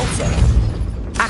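Depulso force spell cast in Hogwarts Legacy, a short heavy booming blast with a low thump and a brief bright swish at the end, loud and close with no talk.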